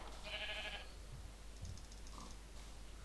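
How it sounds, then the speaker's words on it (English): A sheep in Minecraft bleats in a short burst near the start, followed by soft clicking like keyboard typing, faint and fairly close, with no talking. "I don't like that sheep."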